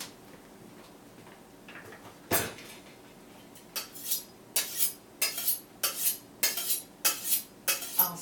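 Repeated rhythmic scraping strokes of a stainless steel knife being sharpened, about ten bright rasping passes in steady succession after a single earlier stroke, close and moderately loud with no talking.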